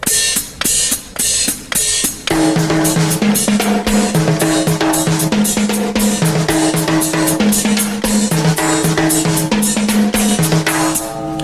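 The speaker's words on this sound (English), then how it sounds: "now let's incorporate a Latin timbali part over here, something with the left hand that would sound like this" A drum kit plays a Latin timbale-style pattern with the left hand, crisp repeated hits opening alone before a dense, driving groove with a pitched tonal line kicks in and runs steadily.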